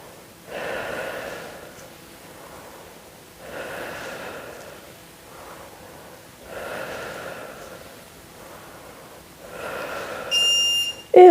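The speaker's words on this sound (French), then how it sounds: "Tu prends le temps d'inspirer et d'expirer." Steady breathing in and out during a short at-home muscle-strengthening workout, four slow, even breath cycles close to the mic, alone without talk, with a brief electronic beep near the end.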